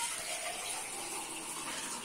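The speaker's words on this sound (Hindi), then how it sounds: "तो पानी डाल के" Water poured into a roasting pan while cooking Pakistani mooli gosht, a steady soft gushing and splashing heard close and fairly quiet, without talking.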